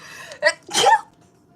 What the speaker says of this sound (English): oh my gosh, I'm gonna sneeze.